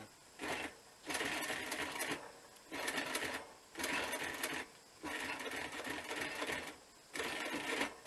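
A sewing machine stitches lines across a bushcraft working vest in six close, steady bursts of rapid mechanical chatter, each stopping briefly before the next line starts.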